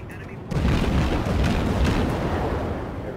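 Naval gun salvo roaring out in World of Warships at tier 1, a sudden loud deep boom that swells into a sustained rumbling blast lasting several seconds.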